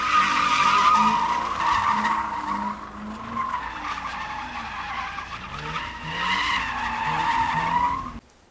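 Subaru cars doing donuts, continuous loud tire squeal with wavering pitch and engine drone, sustained for several seconds before cutting off abruptly.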